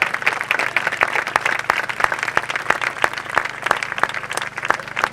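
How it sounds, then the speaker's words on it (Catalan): A rally crowd at a political event for the referendum in Nou Barris breaks into loud sustained applause, with a steady rhythmic clapping beat pulsing through the broad wash of hands. "Gràcies, us demano un aplaudiment."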